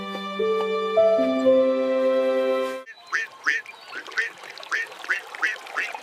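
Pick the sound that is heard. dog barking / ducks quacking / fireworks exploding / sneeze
ducks quacking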